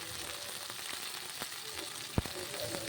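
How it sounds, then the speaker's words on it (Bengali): Spice paste with salt and turmeric for a goat meat and papaya curry sizzling in a pan while being stirred, a quiet steady crackle with soft scraping strokes and one sharp knock against the pan, with no talk. "এবার শুধু মশলাটাই আমি আরেকটু নেড়ে চেড়ে কষিয়ে নেব"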